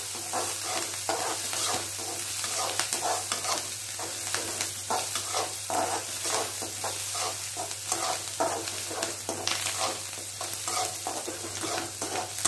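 Mustard seeds, shallots, green chilies and curry leaves frying in hot oil for a cauliflower poriyal, a dense continuous sizzle with crackling pops and occasional stirring, close and loud.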